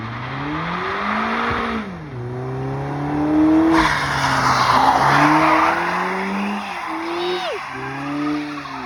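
A front-wheel-drive car with a failing transmission slides on a wet road in the rain, its engine revving up and down with shifting pitch amid hissing tire and spray noise, with a brief squeal near the end, and voices occasionally audible.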